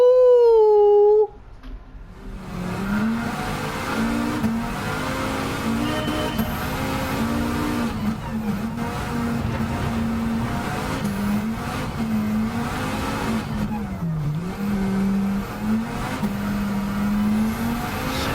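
Front-wheel-drive Volvo with nearly 500 horsepower racing in Gran Turismo 7, its engine droning loud and steady with repeated pitch dips and rises through shifts and corners, preceded by a brief high whine.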